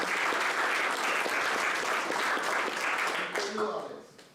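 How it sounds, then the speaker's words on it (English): Audience applause at a tech conference summit closing session, loud sustained clapping from a crowd for about three and a half seconds before tapering off, with a voice briefly audible near the end. "And one more round of applause for Max for doing all the video."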